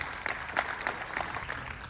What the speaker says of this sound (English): Give a round of applause for yourselves for being here.